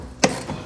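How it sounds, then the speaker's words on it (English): A tool backs out screws from the fender lining of a 2007-2014 Chevrolet Silverado 2500, giving two or three quick, close ratcheting clicks within a split second. "you have to remove a few of these screws in the fender lining"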